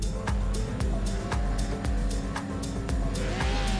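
Race cars at the Nürburgring accelerating and revving, steady loud engine drone with regular sharp ticking pulses and rising tones, no voices over it.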